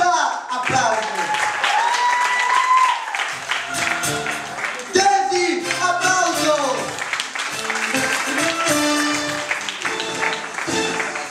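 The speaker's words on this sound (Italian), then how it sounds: "Giorgia, applauso." Audience clapping at an Italian cabaret show drifts beneath a host's energetic amplified voice, the applause rising and fading in short waves while he keeps talking over it.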